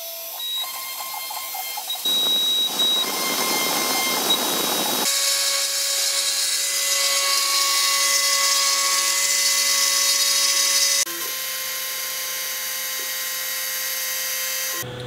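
A rebuilt X-Carve CNC machine carves scrap plywood, its spindle giving a loud, steady high whine with rougher cutting noise and shifts in pitch as the bit moves through the wood.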